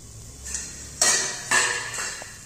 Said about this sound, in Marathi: तर आपण आता हे झाकण काढून घेत आहोत.